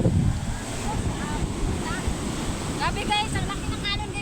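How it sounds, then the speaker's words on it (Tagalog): Large ocean waves surge and wash at night in a constant broad rush mixed with wind buffeting the microphone, while a few faint voices and chirping sounds come through in the background. "ang laki ng alon guys, oh"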